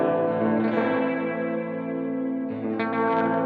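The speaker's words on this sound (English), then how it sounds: "This is heavy reverb with very little overdrive." An electric guitar plays through an effect pedal set to heavy reverb with very little overdrive, sustained chords ringing with a long, washy tail, then a fresh strum near the end that blooms again.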